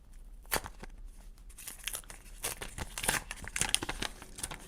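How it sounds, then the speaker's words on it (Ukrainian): A paper surprise packet being torn open in several quick rips, with crinkling between them, close and fairly quiet with no talking. "мені прийдеться порвати цей пакетик"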